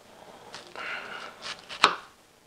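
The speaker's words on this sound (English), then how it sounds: "So these are two sweet Vidalia onions. And we're just cutting them into large" A knife slices sweet Vidalia onions into large rings on a cutting board, giving a few soft crisp cuts and one sharp knock near the end, close and alone without talk.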